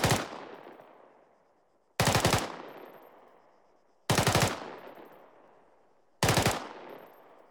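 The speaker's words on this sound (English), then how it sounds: "Right, that would be a cyclic rate of fire for the M4." M4 rifle firing at cyclic full-auto rate in a video game, four loud rapid bursts spaced about two seconds apart, each followed by a decaying echo tail.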